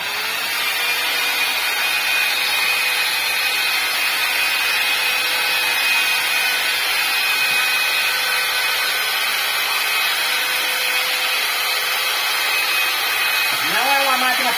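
An electric concrete power trowel, a light hand-held machine spinning clockwise, runs with a continuous loud whirring drone and a steady high whine throughout.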